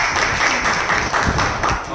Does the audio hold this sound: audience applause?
yes